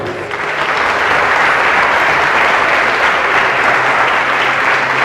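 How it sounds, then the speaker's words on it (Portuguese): Sustained, loud applause from a church congregation at a Brazilian evangelical service, dense clapping filling the room evenly from start to finish. "Aplauda ele, irmão"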